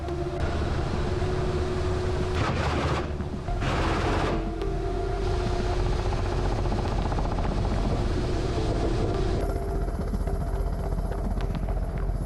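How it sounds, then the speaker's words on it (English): A Ka-52M attack helicopter in flight, its dense rotor and turbine roar continuous and loud, with a steady low throb and broadband rush and no voices. "The Ka-52M helicopter performed a mission to support a ground group of troops"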